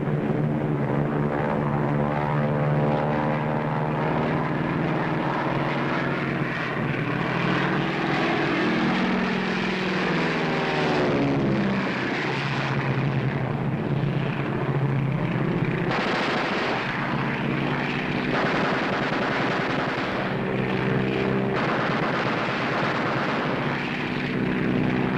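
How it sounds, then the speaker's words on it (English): A 1943 propeller airplane in flight carrying an aerial gunner, its engine drone loud and steady throughout, with no one speaking. "Private Laswell, plane number 22, go ahead."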